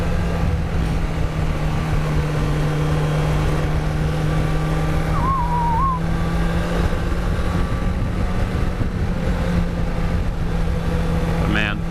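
A motorcycle engine drones steadily while riding on a warm day, a constant close hum with wind rush layered over it for the whole stretch and no clear shifts in pace.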